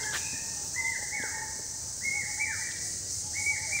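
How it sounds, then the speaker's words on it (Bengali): Birds call in a Dhaka botanical garden, a repeated clear whistled phrase rising then falling, sounding three times at even intervals against a steady high insect-like hiss and soft background rumble. "কি সুন্দর পাখির ডাক শুনছেন"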